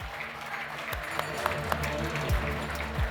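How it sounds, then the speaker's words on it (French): An audience applauds at a sports awards ceremony, giving a short burst of dense, steady clapping across the whole moment. "Sous vos applaudissements, Laurent Gérard."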